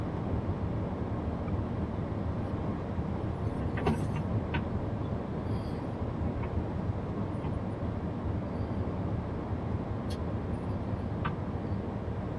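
A Class 395 Javelin electric train runs in Train Simulator 2018 on the Medway Valley Line, with a steady low rumble of wheels and motors and a few faint clicks.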